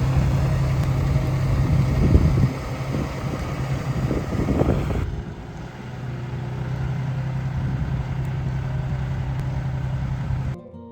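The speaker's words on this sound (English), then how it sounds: "So we're gonna start the tractor up and start making the beds." A tractor engine runs on a flower farm during bed-making, a steady low idling rumble throughout with wind buffeting the microphone, and a few louder surges early on.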